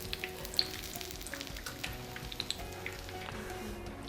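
Bread pizza pockets deep-fry in oil with a soft, steady bubbling sizzle and frequent small crackling pops, fairly quiet and close.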